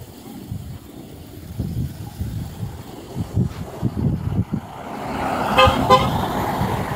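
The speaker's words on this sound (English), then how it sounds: "Honk honk." A car horn toots on Maui near the end, a short sequence of bright honks rising over a low, rumbling outdoor background of wind and passing traffic, with no one speaking.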